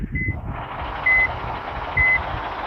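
A truck in a vehicle game mod reverses, giving three evenly spaced electronic beeps over a low steady engine drone.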